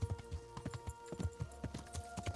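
Horse hooves clip-clop at a steady walking rhythm in the medieval role-playing game Kingdom Come: Deliverance, fairly close and clear, with no talking over them.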